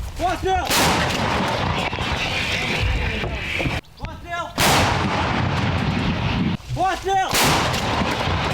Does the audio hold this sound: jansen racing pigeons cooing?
no